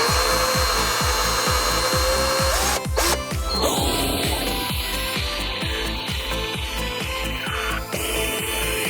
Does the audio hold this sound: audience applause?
no